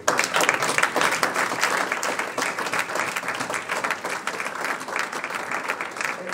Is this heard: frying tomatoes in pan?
no